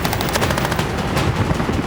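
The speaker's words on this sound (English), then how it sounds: "That gunfire can be quite loud, can't it?" Loud machine-gun fire rattles in a rapid, continuous burst of dense shots that fills the whole clip.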